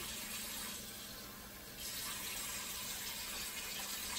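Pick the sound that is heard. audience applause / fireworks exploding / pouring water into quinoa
pouring water into quinoa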